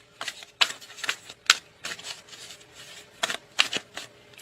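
Tarot cards being shuffled and drawn from a deck: a series of crisp, close riffling bursts and flicks, irregularly spaced with brief pauses, alone without talk.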